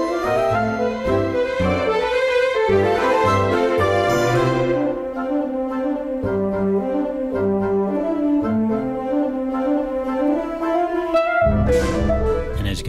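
Full orchestral music plays alone, strings and winds layered in rich, sustained harmonies with a steady pulse, swelling briefly near the end.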